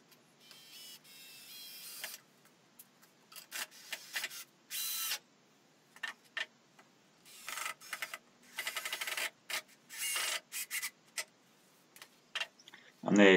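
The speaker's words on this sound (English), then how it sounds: "So there's the first 2 screws going in." Screws are driven into a glued wooden step stool, with bursts of a power driver's whirring separated by short pauses, close and fairly loud.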